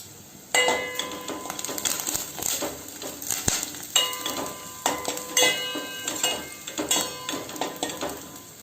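Curry leaves and dried red chillies frying in hot oil for a saaru, a steady crackling sizzle with scattered pops and the clink of a spoon stirring against the pan, close and continuous.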